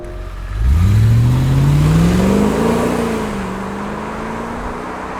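A 2000 Audi D2 S8 accelerating hard, heard from inside: the engine note climbs steeply in pitch to a loud roar, then levels off into a sustained drone as road noise continues.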